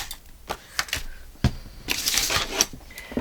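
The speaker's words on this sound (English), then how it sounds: "So I'm going to cut that off." Paper pocket being cut off for a flip and fold journal, a run of rustling, crinkling snips and handling noises, close and moderately loud, with no speech.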